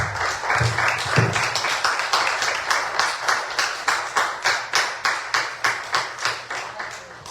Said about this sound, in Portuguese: As palmas do Senhor Jesus, e a palavra está encerrada.